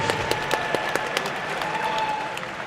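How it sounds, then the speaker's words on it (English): Crowd at a cage fighting event applauding both fighters after a bout, steady moderate clapping from a sizable audience with a few sharp individual claps standing out and a faint voice underneath. "Ladies and gentlemen, a round of applause, please, for both of the fighters in this cage."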